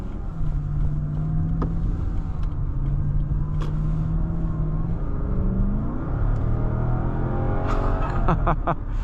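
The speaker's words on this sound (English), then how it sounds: "Sounds so good." From inside a 2013 Lexus LS 460, a loud, steady engine drone rises in pitch as the car accelerates, with road rumble underneath and a few clicks and knocks in the cabin near the end.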